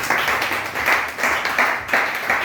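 A church congregation applauding together, a loud, steady wash of many hands clapping in slightly pulsing waves with no talk over it.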